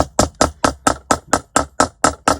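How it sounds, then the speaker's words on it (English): Hammer striking metal wire to flatten a dangle for jewellery wirework, about eleven sharp, evenly spaced taps in a quick steady rhythm, close and loud with no talk. "once you start hammering metal, it becomes quite brittle"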